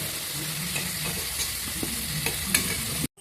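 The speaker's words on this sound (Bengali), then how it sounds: "আমি হালকা ভেজে নেব আলুটা। হলুদ দিয়ে দেব ভাজার সময়" Potatoes sizzle in hot oil in a pan with turmeric, a steady close frying hiss broken by soft stirring scrapes and clinks, with no talking.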